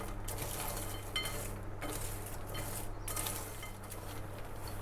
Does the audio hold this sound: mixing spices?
yes